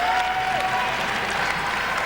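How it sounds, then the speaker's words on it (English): A basketball crowd at Conte Forum during a Boston College home men's game against Rutgers makes a dense, steady wash of applause and cheering that fills the arena without a break. "Crowd here at the Conte Forum trying to inspire their club"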